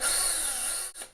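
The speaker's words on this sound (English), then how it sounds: "And I've also got a drill with me." A power drill runs steadily against an iPhone 6, a continuous close, loud whir with a grinding bite that briefly dips and restarts near the end, with no talking.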